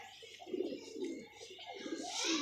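Nearby pigeons give soft, throaty, repeated cooing calls that rise and fall close at hand, with faint chirping in the background.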